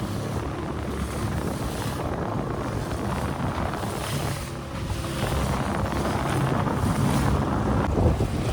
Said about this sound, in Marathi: आताच आपला मशीन चालू झाला आहे, बऱ्यापैकी वारा पण आहे आज.